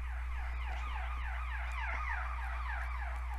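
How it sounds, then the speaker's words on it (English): A rapid warbling electronic siren sweeps up and down repeatedly over a low steady hum, fairly faint. "it's the ambulance! Do you hear it?"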